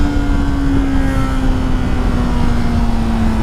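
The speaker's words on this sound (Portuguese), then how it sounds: "você volta a acelerar." A motorcycle engine holds a steady, loud drone while accelerating out of a curve, its pitch sliding slightly as it passes close by, with no voices.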